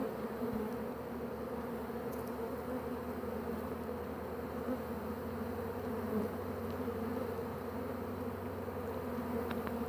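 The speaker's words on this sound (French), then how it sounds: "les abeilles reviennent très rapidement" Honeybees return to an active hive carrying pollen, a dense, steady buzzing hum of many bees close by, constant throughout with no talk.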